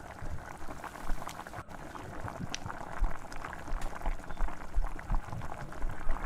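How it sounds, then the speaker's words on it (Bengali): Prawn curry with slit green chillies gently simmering in a pan, a soft, steady bubbling and popping at close range, fairly quiet throughout. "তিন থেকে 4 মিনিট এটা মিনিমাম হালকা আছে এরকমই ফুটবে।"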